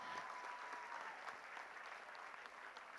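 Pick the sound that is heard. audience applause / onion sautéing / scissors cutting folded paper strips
audience applause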